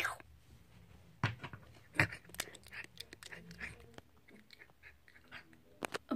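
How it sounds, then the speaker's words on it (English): Soft, irregular chewing and gnawing sounds close by as a dog chews a sock, with a few sharper crunchy bites and faint background voices. "Do I hear chewing?"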